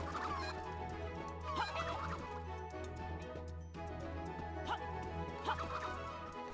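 A chicken clucks in the ranch video game Pippa Funnell: Ranch Rescue, brief clucks and squawks recurring over a steady looping game soundtrack with a low hum underneath.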